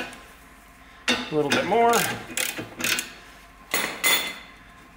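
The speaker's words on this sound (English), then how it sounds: "So I'm going to loosen this nut" A stuck nut is worked loose with a wrench, giving close ratcheting clicks and short metallic bursts in uneven spurts, with someone talking between the efforts.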